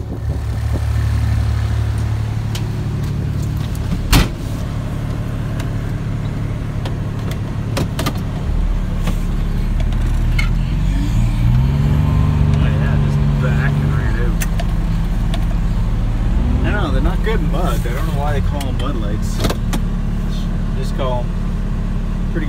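A 2015 Kubota X1100C utility vehicle on ITP Mudlite XT tires pushes through deep snow, its engine droning steadily with shifting revs and a brief clunk, while someone talks over it.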